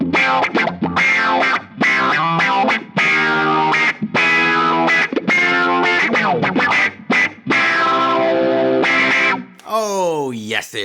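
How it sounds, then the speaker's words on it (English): Electric guitar played through a GFI System Rossie envelope filter pedal, a loud, funky run of choppy, quacking notes and chords with sweeping filter and brief gaps, ending in a swooping wah-like slide. "This is my guitar. And this is the envelope filter,"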